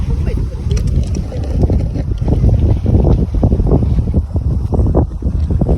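Strong wind on a boat at sea as a typhoon approaches buffets the microphone in a constant roar with gusty surges, heavy rumbling throughout.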